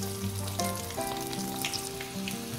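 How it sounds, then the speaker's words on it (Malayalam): Onion rings frying in boiling coconut oil give a steady, dense sizzle and crackle throughout, close and fairly loud, with a faint tonal hum underneath and no voices. "ഇനി നമുക്കതിലേക്ക് നമ്മുടെ ഓണിയൻ റിങ്സ് ഇട്ട് ഫ്രൈ ചെയ്തെടുക്കാം"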